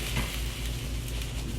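Hamburger steaks set back into thick gravy in a pan on lowered heat, giving a steady, close, continuous sizzle and bubbling simmer with faint stirring, no voices.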